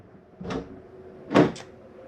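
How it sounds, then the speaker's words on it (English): The entry door of a 2024 Keystone Bullet 260RBS travel trailer RV is gently slammed: two soft, close thumps about a second apart, the second with a quick latch click, with no talk. "Which brings me to our steps and the door here. These locks work best when just gently slammed."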